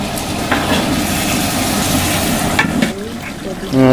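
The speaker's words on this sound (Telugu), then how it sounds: "ముక్కలను బాగా మసాలాలో కలపాలా. మసాలాలు కిందివి పైకి బాగా నీట్గా మిక్స్ అయ్యేటట్టు కలుపుకోండి" Chicken pieces stirred and fried in biryani masala, a loud continuous sizzle with scraping stir sounds, close, ending in a louder rush of frying.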